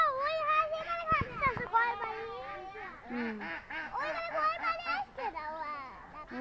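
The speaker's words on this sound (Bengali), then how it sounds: "আবার হাঁস নামতেছে" Ducks quack repeatedly in loud, overlapping nasal calls as they come down to land, with children's voices chattering and calling close by throughout.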